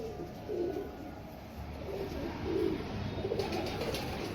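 Elderly female Royal Teddy pigeon cooing in soft, low repeated coos at a moderate distance, a few separate phrases over steady background hiss.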